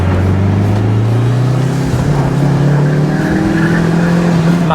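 A Mitsubishi Lancer Evo VI JDM car drives hard, its loud, close engine note climbing steadily as it accelerates, with a brief dip near the middle and no talking.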